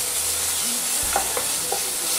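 A pan sizzles steadily as it is deglazed after frying shrimp in olive oil, with a soft hiss and a few light scraping stirs, close and fairly quiet.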